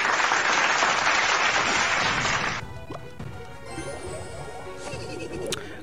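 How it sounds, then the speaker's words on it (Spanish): A burst of loud, dense clapping from a crowd lasts a couple of seconds, then cuts to quieter room noise with scattered thumps. "Un aplauso para ti."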